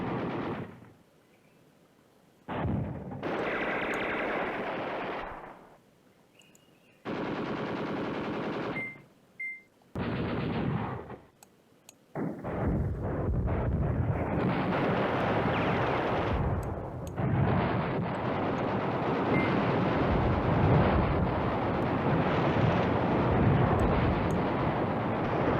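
Sustained battle noise of artillery fire and explosions in the Command Ops 2 wargame, set around Nijmegen. Loud roaring bursts start and stop early on, then give way to a long, dense, continuous rumble.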